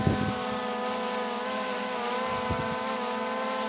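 A Skydio 2+ drone lifts off and hovers a few feet up on a windy day in the desert, its steady, multi-toned motor whine holding close and even throughout, with light wind rumble underneath.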